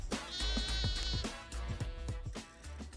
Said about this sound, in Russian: Ребята, особая порода баранов. Гессарская называется.